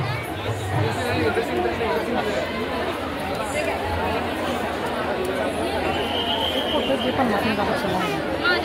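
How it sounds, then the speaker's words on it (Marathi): Dense crowd of visitors at a flower-decorated Mahalakshmi temple during the Ambabai palanquin festival in Kolhapur, chattering steadily in a loud, close, continuous babble with no single voice standing out. "गर्दी बघा किती."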